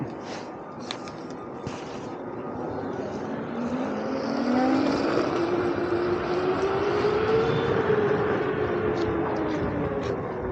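Veteran Sherman electric unicycle riding with steady wind roar and a faint rising motor whine that swells and holds, then eases as it brakes hard, close and continuous with no talk.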